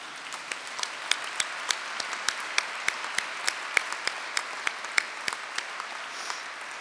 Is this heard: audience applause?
yes